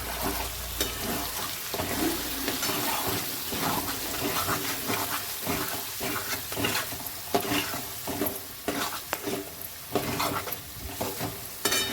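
Potato curry with masala stirred in a hot pan, a dense sizzle with repeated scraping and clacking spatula strokes in an uneven rhythm, close and fairly loud, no speech.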